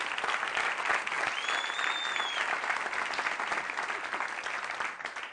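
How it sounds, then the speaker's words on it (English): Applause breaks out for a woman named Louisa as she is called up, a steady crowd clapping that holds for several seconds before easing slightly at the end, with a brief whistle rising above it. "Give Louisa a round of applause."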